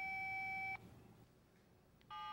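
Electronic key-press beeps from a Motorola 27722 cellular phone: one steady tone, a short quiet gap, then a second beep starting, clear and close with no talking.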